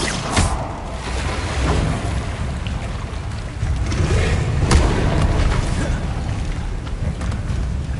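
A Bombarda spell explosion goes off in Hogwarts Legacy, a dense booming blast with rumbling debris that flares sharply near the half-second mark and again around five seconds, with a continuous loud roar between.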